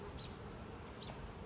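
Honey bees of a nucleus colony hum steadily during a hive inspection, a continuous close drone with faint higher wing whines drifting past, no talk.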